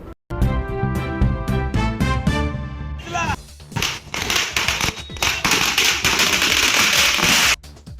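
Firecrackers burst at a community celebration: a rapid string of sharp cracks opens the sequence, then gives way to a dense, loud crackling barrage that runs on for several seconds before cutting off.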